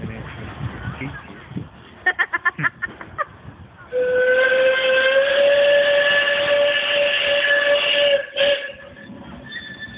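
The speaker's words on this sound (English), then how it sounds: "A real steam train." The steam locomotive Mad Bess, entering Woody Bay station, gives a few quick chuffs and then a loud, sustained whistle blast, with a shorter toot afterwards over the rumble of the train.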